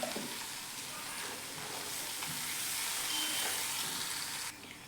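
Ginger paste sautéing in a pan with curry leaves, a continuous soft hissing sizzle at close range with a few faint scrapes, steady throughout and without speech.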